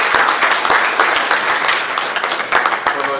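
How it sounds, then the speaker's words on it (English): Steady applause from an audience at a research colloquium, honouring Prof. Papi; dense, continuous clapping fills the whole stretch with individual claps popping out near the front. "Let's give Prof. Papi another big round of applause."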